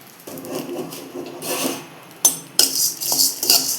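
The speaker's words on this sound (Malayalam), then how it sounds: "ചട്ടി ചൂടായതിന് ശേഷം ഈ അരി വെള്ളം വാർന്നു പോയത് ഇതിലേക്ക് ഇട്ട് നമുക്ക് വറുത്തെടുക്കാം." Drained, soaked rice roasting and being stirred in a hot pan for ariyunda, giving dry scraping, rasping strokes with a few sharper clinks near the end, close and fairly steady with no voices.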